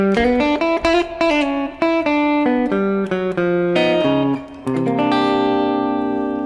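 A clean electric guitar plays a jazzy blues phrase, plucked single notes and chords ringing in a steady flow, ending on a sustained chord.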